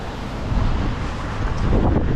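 Strong wind in New Zealand roars steadily against the microphone, a loud buffeting rush with no voices.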